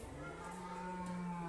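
A cow moos once in a long, steady, droning call, fairly close and alone.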